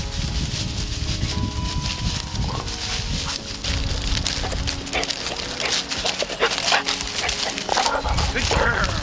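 Dogs during scent detection training whimper and give short yips and barks amid handler chatter and movement, the dog sounds intermittent and fairly close under voices.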